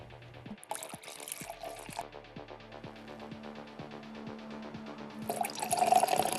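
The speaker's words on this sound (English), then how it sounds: "Would you like me to pour the drinks for you and your guests?" Liquid splashes and gurgles into a glass as drinks are poured for guests, with soft drips and trickles close up, light clinks, and a quiet room behind.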